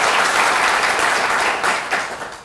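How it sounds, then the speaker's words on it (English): A crowded room of audience members applauds a show guest, the mayor of Madison, with dense, continuous clapping that tapers slightly toward the end. "Please give him a round of applause."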